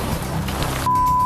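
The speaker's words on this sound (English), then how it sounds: "It's raining a lot, but it's a good fish. Fishing in the rain." Heavy rain pours steadily onto a fishing boat, a dense, constant hiss and patter that thickens and grows louder partway through, with no voices.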